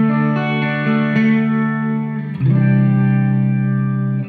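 Electric guitar played through an analog Overtone pedal on a worship pedalboard, adding layered synth-like harmonics behind sustained chords, with one chord change midway, loud and alone.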